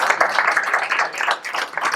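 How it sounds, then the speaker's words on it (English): An audience at a general monthly meeting breaks into steady, dense applause, many hands clapping together close by for the full two seconds with no talking over it. "they need a round of applause for Bethany to do that"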